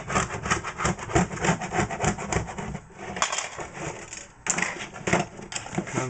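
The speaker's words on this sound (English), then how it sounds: "I need to remove all the melted plastic, and so I just use the edge of my metal ruler," Metal ruler edge scraping melted plastic off an Aurora AFX Speed Steer slot car lane divider, a close, continuous rasping rub in repeated strokes with two brief pauses.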